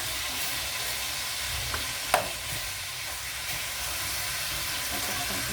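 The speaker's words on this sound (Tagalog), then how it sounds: "Iprito muna. Pagkaprito, iprito po muna ito." Meat marinated for an hour in soy sauce and calamansi frying in a pan, a steady broadband sizzle throughout with a brief sharper crackle or clink partway, no talk.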